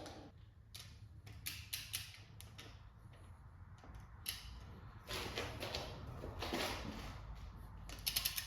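A torque wrench tightening LS1 cylinder head bolts to 80 foot-pounds, its ratchet clicking in rapid close bursts with brief pauses between strokes.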